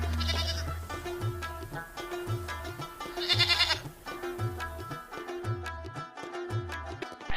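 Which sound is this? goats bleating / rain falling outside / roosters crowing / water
goats bleating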